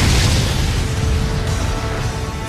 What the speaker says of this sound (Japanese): そこにタジキが爆発した